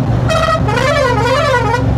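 A vehicle horn on a modified Royal Enfield 650 motorcycle plays a melodic tune, its notes rising and falling in a continuous musical phrase, loud and close.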